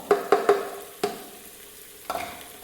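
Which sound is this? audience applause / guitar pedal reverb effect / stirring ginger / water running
stirring ginger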